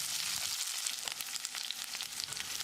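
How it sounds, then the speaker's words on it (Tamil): Chopped small onions sauté in sesame oil with mustard seeds, fenugreek and curry leaves, a steady close sizzle with scattered crackles and pops and no talking. "வெங்காயத்தை செவந்து வர அளவுக்கு வதக்கிடலாம்."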